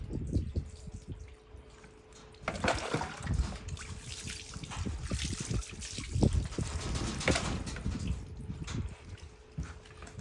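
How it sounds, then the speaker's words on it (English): Water trickles and splashes steadily over a dog's back as it is soaked before a bath, a close, continuous pouring with uneven dribbling bursts. "pouring water to soak the skin, their hairs"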